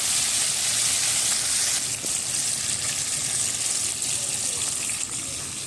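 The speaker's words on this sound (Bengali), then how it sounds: "ধনিয়া পাতা সব কিছু দিয়ে ভালো করে লাল লাল করে ভেজে নেব" Spices, coriander leaves, chillies, dried red chillies and bay leaves fry in oil for a rohu fish curry with drumsticks and potatoes, a loud, close, steady sizzle that fades slightly at the end.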